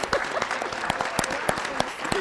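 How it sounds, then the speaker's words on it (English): An audience at a community anti-violence forum claps for an honoree, scattered distinct hand claps over a murmur of voices and room noise. "please give a warm round of applause"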